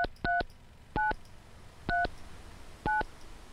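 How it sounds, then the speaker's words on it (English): Four short bursts of dual-tone keypad beeps, each a pair of quick tones, evenly spaced and loud over a quiet room hum as a phone dials a call in the video game Mon Bazou. "But let's call Mum."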